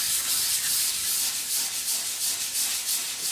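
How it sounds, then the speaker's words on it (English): A wooden drawer front being hand-sanded with 320-grit sandpaper in swirling strokes, producing a steady close, soft abrasive rasp that pulses gently with each circular pass, with no voices. "I'm using 320 sandpaper, and I do not follow the grain"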